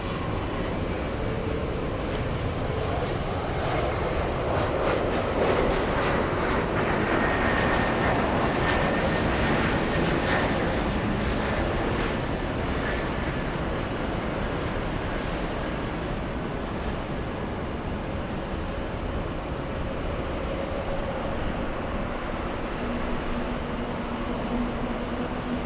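A SkyWest CRJ regional jet arriving at LAX airport, a steady loud engine roar and whine that swells and slowly fades over about twenty-five seconds, heard from a distance with no talk.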